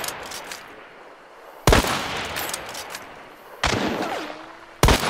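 Gunfire in the video game Hunt: Showdown: three loud, sudden shots spaced a couple of seconds apart, each cutting through a steady, hissy ambient background.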